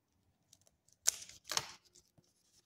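Scissors cutting a paper template for a pants zipper, two quick crisp snipping strokes close by in a quiet room, surrounded by a few faint taps and rustles.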